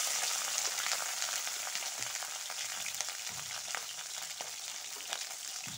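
Pointed gourd (potol) fries in hot oil with black cumin in a pan, a soft, even sizzle with faint crackles throughout, heard alone at low volume.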